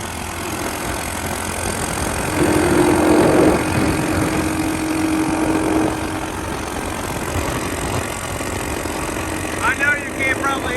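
A Honda SL70 motorcycle engine running steadily while being ridden, a continuous loud drone with wind rush over the microphone throughout.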